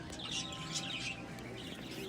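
Pet birds chirping in cages inside a Petco store: a busy, overlapping mix of high, quick chirps and tweets from several birds, moderately close, over steady shop background noise.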